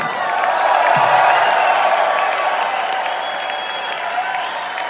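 Concert crowd at the O2 Shepherd's Bush Empire in London applauding a show, a broad wash of clapping with some cheering, building then gradually thinning out.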